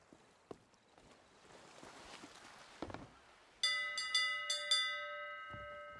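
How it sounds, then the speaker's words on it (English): Ship's bell in the pirate game Sea of Thieves, rung in several sharp metallic strikes that ring on, following quieter creaking and footstep-like sounds on deck. "Ring the bell."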